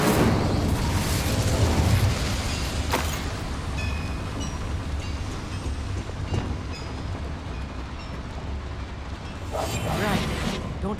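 The Incendio fire spell in Hogwarts Legacy, cast inside a mine, produces a heavy rumbling roar with whooshing flame bursts that flare at intervals and rise again toward the end.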